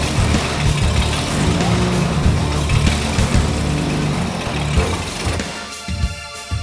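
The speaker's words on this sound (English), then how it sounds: "Now it's been slowly dragged into the yard by the winch of Jim's GMC truck from the same era." A 1940s-era GMC truck runs its engine steadily and loudly while winching a World War II tank into a yard, a continuous heavy motor drone that eases off near the end.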